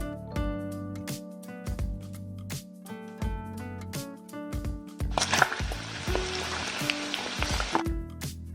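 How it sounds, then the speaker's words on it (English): Turkey meat frying for a Togolese dish, a bright steady sizzle that swells in after a few seconds of kitchen clatter and holds at moderate loudness. "You can start frying the meat once it has cooled down."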